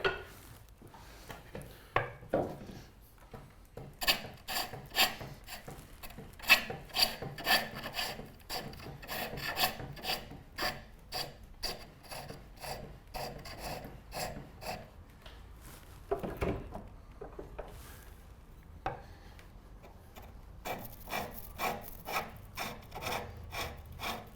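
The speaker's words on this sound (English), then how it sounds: "I'm actually just going to use my roughing gouge to start." A roughing gouge cuts a dry wooden chair leg spinning on a lathe, giving repeated rasping, scraping bursts in a steady rhythm with brief pauses, close and fairly loud with no talking.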